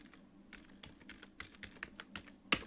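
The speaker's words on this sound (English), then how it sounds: "I'm clicking on enter." Someone types on a computer keyboard in a quick run of light, irregular key clicks, close and quiet, ending with a single sharper, louder keystroke as enter is pressed.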